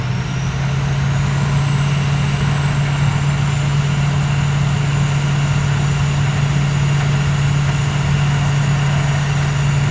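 The large motor of a magnetic conveyor runs with a loud, steady, low hum and constant mechanical drone, with no voices over it.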